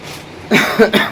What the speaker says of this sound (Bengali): কাশি হয়েছে জানো তো